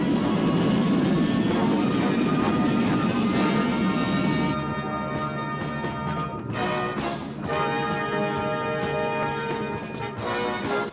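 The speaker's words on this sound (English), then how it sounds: "the rocket flies awkwardly in the air up to the plane" Aircraft in flight during an aerial scene from the 1982 film Megaforce, a loud sustained engine roar with steady tonal whine, continuous for the whole stretch with some wavering and no talk over it.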